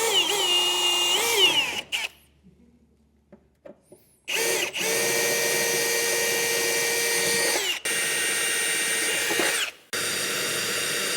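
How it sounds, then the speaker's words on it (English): A power drill whines loudly in long, steady runs, enlarging holes in a 2024 Ford F-series truck bed with small bits, pausing briefly between bursts with small clicks and taps, close by and without talk. "I am going to work my way up to it with some smaller drill bits."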